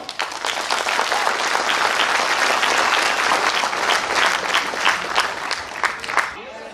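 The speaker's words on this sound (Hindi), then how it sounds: "अपनी कंपनी के लिए एक बार जोरदार तालियां" Loud, sustained applause from a large audience at a company event, dense clapping filling the whole stretch with a brief swell near the end.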